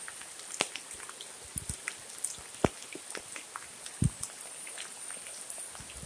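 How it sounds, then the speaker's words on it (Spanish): Light rain falls outdoors, a faint steady patter with scattered drops tapping close by and a high hiss running underneath. "así nos recibe la lluvia, la bendición"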